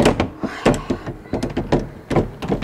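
An IKEA Hauga sideboard drawer shuts noisily, producing a run of close, hollow wooden thuds and knocks in irregular bursts.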